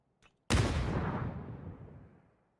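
A grenade detonates in PUBG, a single loud close boom after a faint brief pop, its rumbling tail fading away over about two seconds.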